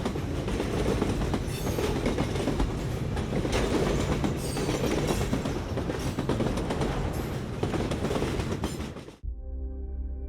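Pakistan Railways train rolling along the tracks, with a loud, close, steady clickety-clack of wheels over rail joints and a rumbling carriage, cutting off abruptly near the end with no talk.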